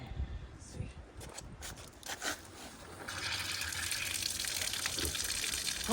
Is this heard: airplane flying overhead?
no